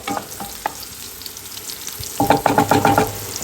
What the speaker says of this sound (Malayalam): മുളക് ഒന്ന് നല്ലോണം വാടിയിട്ട് ഒന്ന് മൂത്ത് വരിക ഒരു ബ്രൗൺ ലൈറ്റ് ബ്രൗൺ കളർ ആകണ വരെ ഒന്ന് വാട്ടണം കേട്ടോ